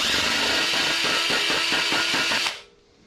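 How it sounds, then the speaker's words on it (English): A power drill spinning emery cloth inside a VW engine case bore whirs loudly with a rhythmic scraping grind, then spins down and stops near the end. "we're gonna take our emery cloth on the drill bit"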